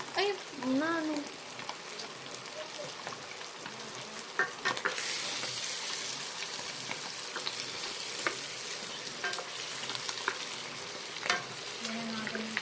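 Mushrooms sizzle steadily in a pan while carbonara is cooked, a continuous close frying hiss with occasional stirring clinks, and a brief voice near the start.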